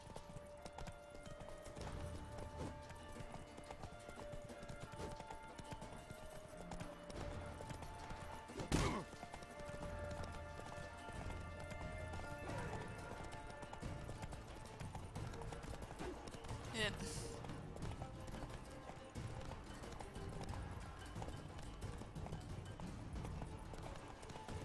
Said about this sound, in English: A low-speed horse chase.